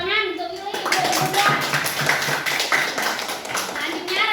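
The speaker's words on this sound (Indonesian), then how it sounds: "Tepuk tangan untuk Yuli" Children in a school classroom clap together for a classmate, a busy burst of hand claps layered with young voices talking over it.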